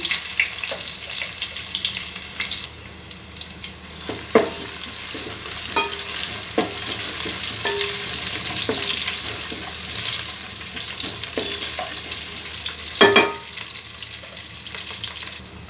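Cumin, a bay leaf and chopped onion fry in hot oil as soy curry is cooked, giving off a steady close sizzle. A spoon scrapes and stirs the pan in occasional sharp clinks.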